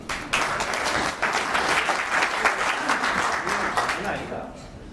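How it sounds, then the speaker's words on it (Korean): An audience at a Changwon National University 30th anniversary celebration breaks into dense, close applause that starts abruptly, runs steadily, then thins toward the end, with some talk mixed in. "박수 한번 부탁드립니다."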